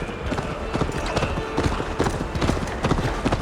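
Horse hooves clip-clopping at a steady trot in Assassin's Creed Valhalla, a loud, close, rhythmic patter of hoofbeats continuing throughout over a low ambient bed.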